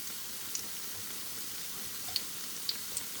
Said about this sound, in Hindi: इनको गोल्डन ब्राउन होने तक फ्राई करेंगे